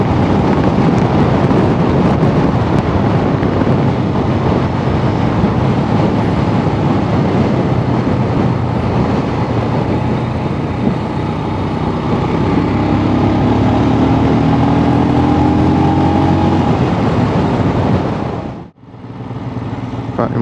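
An adventure motorcycle cruises in fifth gear at low revs, its smooth, steady engine drone buried under constant loud wind rush for about eighteen seconds before a brief dropout near the end.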